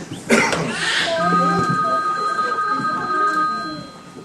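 A telephone bell rings in a sustained trill under people speaking and a cough, moderately loud and continuing for several seconds in a small cafe setting.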